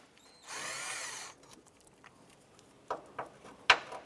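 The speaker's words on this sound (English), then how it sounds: "They're held in with a 10 millimeter bolt. I'm going to use our socket and remove these." A power socket tool whirs in one short burst to take out a 10 mm radiator bracket bolt on a 2006-2013 Chevrolet Impala, then metal clicks and clanks follow as the bolt is handled, close up and quiet.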